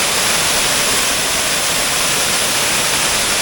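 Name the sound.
water flowing out from under balete tree roots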